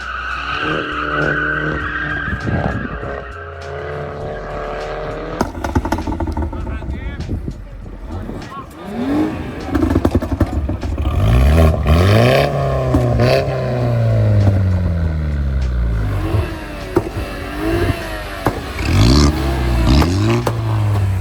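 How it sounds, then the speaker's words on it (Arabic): Modified BMW cars drift with long screeching tire squeal and revving engines, the squeals sweeping up and down in pitch, loud and near, while people talk and shout over the action. "الدكتور ده بيسخن الكاوتشات لسه عربيات جايه"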